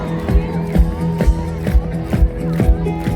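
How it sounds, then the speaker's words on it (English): Concert crowd at a live Mumbai show clapping in unison to a steady beat, regular rhythmic claps about twice a second over music, loud and full. "Everybody clap with this beat."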